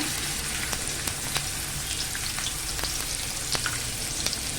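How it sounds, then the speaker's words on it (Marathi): Sliced onion fries in hot oil in a preheated pan, a steady close sizzle with faint crackles and occasional stirring scrapes, no voices. "तेल चांगलं गरम झालं ना का आपण त्यात कांदा टाकून घेऊया"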